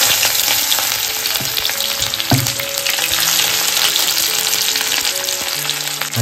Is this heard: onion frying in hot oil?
yes